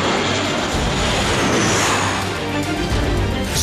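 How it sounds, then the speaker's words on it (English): Roaring, broadband jet noise from an FA-50 Fighting Eagle supersonic fighter, loud and sustained throughout with a hissing upper edge and rumbling low end, no voices. "Performance of supersonic fighter."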